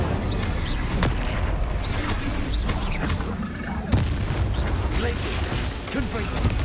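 Incendio fire spell cast in Hogwarts Legacy on PS5, with a steady run of booming, crackling blasts and sharp bangs layered over continuous game noise, loud and close.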